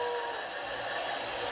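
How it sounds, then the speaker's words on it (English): A Chi Advanced Iconic hair dryer blows in a loud, steady, close whooshing roar that holds unbroken from start to finish, with no voices. "I just blow dried my hair with my new blow dryer"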